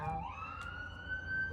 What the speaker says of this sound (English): Take the sirens as confirmation